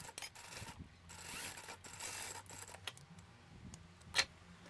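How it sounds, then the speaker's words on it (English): A sewing machine runs in short bursts while straight stitching lace onto fabric, with a mechanical whirring and ticking, brief pauses between runs and a sharp click near the end, all fairly quiet and close. "I'm going to sew a straight stitch here without catching the pink fabric."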